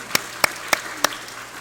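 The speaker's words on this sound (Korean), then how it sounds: "자, 우리 박수할까요? 아멘한 우리 어린이들에게." Four sharp, evenly spaced claps ring out in a church as the congregation applauds the children, each clap crisp and distinct over a quiet, humming room.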